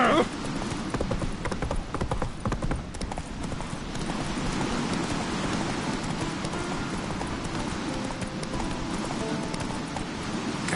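Horse hooves clip-clop steadily at a gallop in The Witcher 3 video game, a continuous rapid rhythm of hoofbeats with the odd snort or whinny, a voice briefly urging the horse on.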